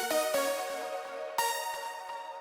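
A layered synth lead stack built in FL Studio for a progressive house track plays a bright, buzzy melodic line of a few clear note attacks, moderately quiet and on its own.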